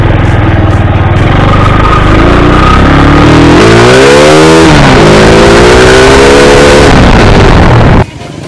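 Loud revving from a stock Yamaha Mega Pro motorcycle fitted with an oversized RX King 28 carburetor, the engine climbing and falling through several throttle blips before cutting off abruptly near the end.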